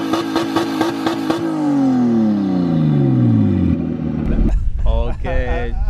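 A Nissan Skyline R33 GTST with an open downpipe exhaust revs in sharp repeated blips, then drops in a long descending whine before another hard rev. A person speaks near the end.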